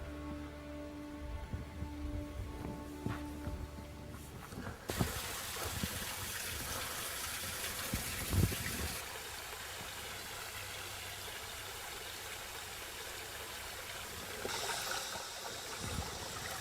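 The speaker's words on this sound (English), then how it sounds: "The energy of flow patterns in water," Water flows steadily in a small stream of a food forest, a constant broadband rushing and gurgling heard alone without talk, its texture shifting in a few abrupt steps along the way.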